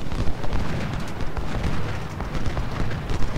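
Artillery fires in the Civil War strategy game Ultimate General: Civil War, a dense continuous rumble of overlapping booms and blasts, loud and close, with no talking.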